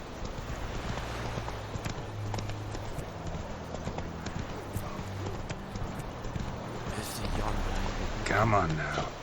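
Roach, a horse in a video game, runs with rhythmic clip-clop hoofbeats at a steady gallop over a low rumbling game soundscape, with a brief whinny-like sound near the end.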